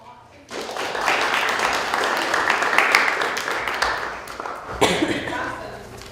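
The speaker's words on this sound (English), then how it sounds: "Great, give them a round of applause." Audience applause at a lecture swells at about half a second and holds as steady, fairly loud clapping for several seconds, with a brief surge near the end and some voices mixed in.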